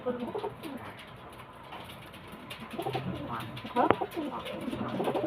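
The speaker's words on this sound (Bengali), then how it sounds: "একজোড়া মালবাহী পায়রা একজোড়া সাহারানপুর নাপ্তা পায়রা" Pigeons, including a pair of cargo-type pigeons and a pair of Saharanpur napta pigeons in a village loft, coo in a soft, repeated rolling rhythm close by, with scattered rustling and faint background voices.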